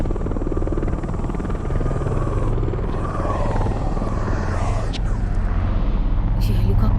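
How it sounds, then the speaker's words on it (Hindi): Helicopters approach in a Hollywood horror film, a steady loud rotor throb with thumping blade chop that fills the whole scene and grows slightly stronger toward the end. "ये हेलीकॉप्टर्स तुम्हारे लिए आ रहे हैं ना?"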